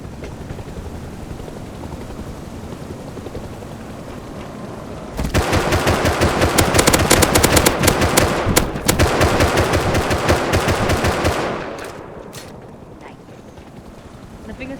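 Sustained gunfire in the survival video game Rust, a dense, loud burst of rapid automatic shots lasting several seconds with a brief gap before it cuts off. A quieter ambient background surrounds it.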